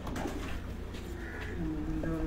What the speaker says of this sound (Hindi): ये शेखों वाले काले मुंह वाले कबूतर मैं आपको दिखा रहा हूं।